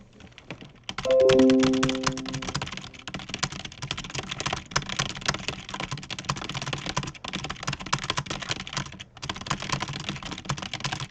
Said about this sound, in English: I do not like typing like this, but I can do it.